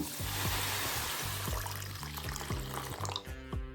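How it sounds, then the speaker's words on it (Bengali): Mung dal lentils are washed by hand in water, with rhythmic sloshing and swishing strokes close by, repeating roughly every half second. "এবার ডালটাকে ধুয়ে নেব"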